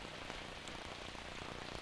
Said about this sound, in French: se réveille avec le bruit de la pluie